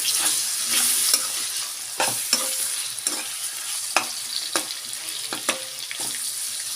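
Tomatoes frying in a pan with ginger and garlic, stirred with repeated scraping clicks over a steady bright sizzle and some running-water noise, fairly close with no talking.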